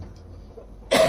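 A single sharp cough bursts out near the end, loud and close, after a quiet stretch of room tone, from a speaker during a Satsang gathering.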